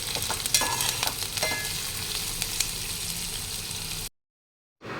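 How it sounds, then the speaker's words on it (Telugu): Spiny gourd curry being stirred in a hot pan, with steady sizzling and frying plus scraping stir strokes for about four seconds before the sound cuts to silence. "బోడ కాకరకాయ కూడా ఇప్పుడే వేసుకొని మంచిగా కలిపేసి తీసుకొని పెట్టేస్తున్నాను"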